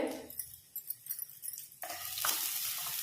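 Grated coconut fries in a spoonful of ghee, giving a soft crackling sizzle broken by spatula stirring and scraping. The sizzle grows louder and brighter partway through this short stretch, with no speech.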